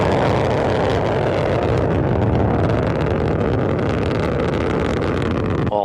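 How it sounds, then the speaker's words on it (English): Soyuz rocket booster engines roaring during launch from the Baikonur Cosmodrome: a loud, dense, unbroken rumble at a steady level for the whole stretch, with no voices. "The Soyuz booster arcing out to the northeast from the Baikonur Cosmodrome."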